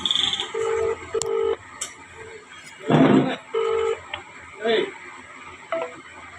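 A mobile phone ringback tone repeats in short evenly spaced beeps while people talk over it, with clicks and handling noise.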